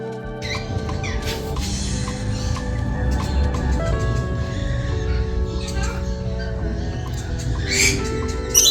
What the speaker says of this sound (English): it was this awesome bird aviary